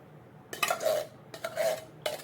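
A spoon scrapes and clanks against a pan while sloppy joe sauce is stirred into ground beef, in three short bursts of metallic scraping with quiet gaps between.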